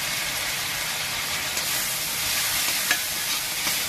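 Tomato paste and ground spices stirred together in a frying pan for a Bengali pangas fish curry give a steady, close sizzling hiss, with faint scraping stir strokes running through it.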